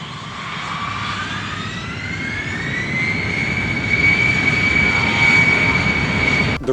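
A DJI Mavic Air 2 drone flying fast in sport mode gives a loud, steady jet-like whine whose pitch rises and then holds over a broad rushing roar, growing slightly louder toward the end, with no talk.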